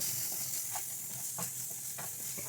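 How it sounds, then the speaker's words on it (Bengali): Chopped ginger, garlic and onion fry in hot oil with a soft, steady sizzle and a few faint stirring clicks, quiet and close, without any voices. "তেলের মধ্যে আমরা একে একে চপড আদা, চপড রসুন আর পেঁয়াজগুলোকে দিয়ে ভালো করে সেটাকে ভেজে নেব"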